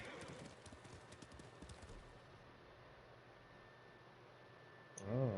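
A horse in the video game Ghost of Tsushima gallops with quick, faint clip-clop hoofbeats that fade into a quiet stretch, followed by a short louder burst at the end.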